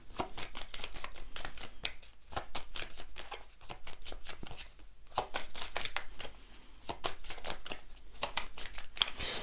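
Tarot cards are shuffled close up in a long, busy run of rapid riffling flicks and papery slaps, with only brief lulls.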